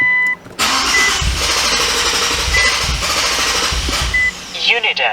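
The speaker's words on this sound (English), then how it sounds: "running the fuel pressure out by simply starting the car till it stalls out" An Infiniti Q50/Q60 engine cranks and catches close by after a high-pressure fuel pump installation, then runs at a steady rumbling idle before faltering near the end as fuel pressure runs out.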